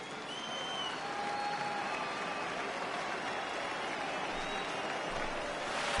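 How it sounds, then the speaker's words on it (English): A baseball stadium crowd at a Rays versus Red Sox game murmurs after a batter is hit by a pitch, a dense, steady roar of many distant voices with light clapping, continuous and without anyone speaking close by. "I can hear the crowd murmuring now, wondering if he hit him on purpose"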